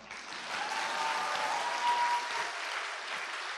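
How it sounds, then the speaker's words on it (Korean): A church congregation applauds at a Sunday testimony service, a dense, even wash of many hands clapping at once that holds steady and then gradually thins and fades. "박수가 왜 점점 줄어들죠?"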